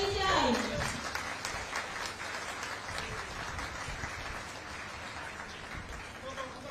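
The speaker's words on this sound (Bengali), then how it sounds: "খুব জোরে হাততালি চাই।" An audience applauds at an event, a fairly faint, steady patter of clapping with a voice heard briefly at the start.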